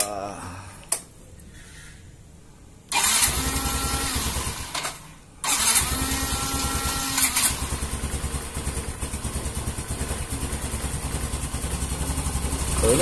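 Yamaha Mio M3 scooter with a fault that makes it stutter and lose power on throttle: the engine starts after a short quiet stretch, cuts out briefly, then restarts and idles loudly and unevenly up close.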